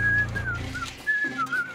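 A cartoon robot cleaning machine whistles a short, bright tune of a few wavering notes close to the microphone, over a soft animated-series music bed.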